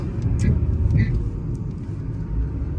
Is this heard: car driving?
yes